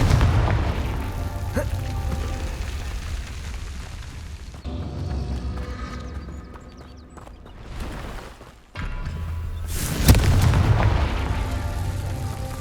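Confringo fire spell explosions in the video game Hogwarts Legacy, heavy rumbling booms that recur through the clip, with a deep blast near the end over a continuous game soundscape.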